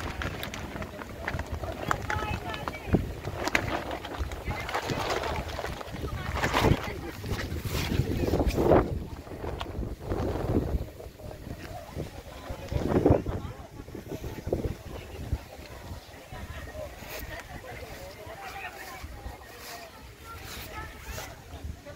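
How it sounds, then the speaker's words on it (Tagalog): Strong wind buffets and roars in uneven gusts at a campsite in Tanay, Rizal, swelling and fading, with scattered rustling and knocks of a tent underneath. "Bumubugso na naman ang malakas na hangin guys."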